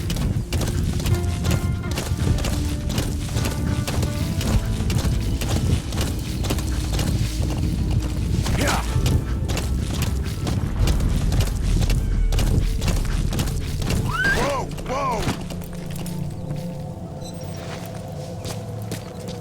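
Horse hooves clip-clop in a steady walking rhythm in Metal Gear Solid V: The Phantom Pain, continuous and close, with a whinny near the end and faint game ambience underneath.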